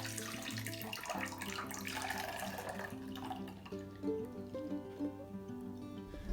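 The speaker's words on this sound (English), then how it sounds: "Open the yams and drain off the excess water." Canned yams being drained in a kitchen, liquid pouring and splashing steadily into a sink for a sweet potato casserole, with faint background music underneath and no talking.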